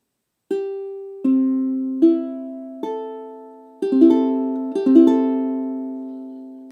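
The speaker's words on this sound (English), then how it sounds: "Open string, and it's just going to sound like this." A ukulele strummed on open strings, six bright strums at an easy, uneven pace, each ringing and decaying before the next.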